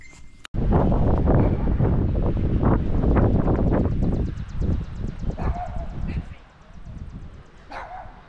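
Strong wind buffets the microphone at a campground, roaring loudly and unevenly for several seconds before easing, with a dog barking and a person talking under the gusts.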